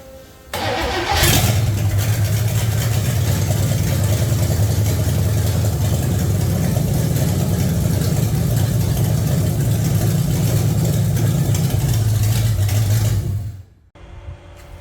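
A 1966 AMC Rambler Rebel with a 327 V8 and Holley Sniper fuel injection cranks briefly, catches, and settles into a loud, steady, rumbling idle that holds for many seconds before cutting off abruptly.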